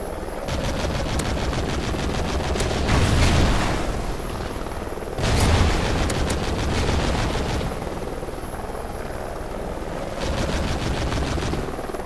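A friendly helicopter in the video game Ghost Recon thrums continuously with dense rotor noise, mixed with bursts of gunfire and booming swells of combat around it.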